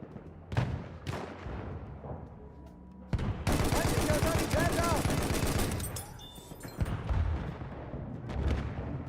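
In a shooter video game, a grenade explodes with a heavy boom and a dense burst of rapid gunfire follows, then scattered single shots and thumps, all loud and close, with no one speaking over it.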